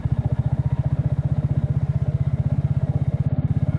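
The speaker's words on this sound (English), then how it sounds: "the engine just pulls so nicely" Triumph Spitfire motorcycle engine pulling steadily while riding along Cumbrian country lanes, a loud, close, rapid regular throb with no talk over it.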